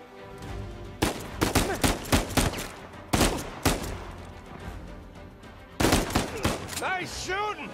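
Gunfire in the video game Uncharted 4, several clusters of loud, sharp shots in quick succession with pauses between volleys, and voices heard near the end.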